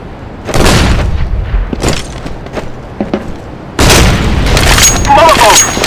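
A flashbang grenade in the CS:GO video game on PS3 sets off loud, sharp blasts, with separate bangs early on and then a longer, denser burst of explosive noise while players talk over the action.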